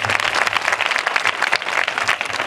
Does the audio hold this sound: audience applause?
yes